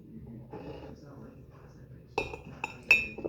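A tablespoon clinks against a mug while making a mug cake, sounding as a few sharp, bright taps that close together over quiet background murmur.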